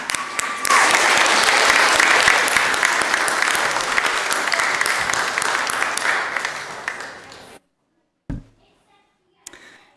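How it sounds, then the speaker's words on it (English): A church congregation applauds its teachers during a Sunday service, a loud, dense burst of clapping lasting about seven seconds before stopping abruptly, followed by a couple of isolated knocks and thuds. "let's give a round of applause for these teachers"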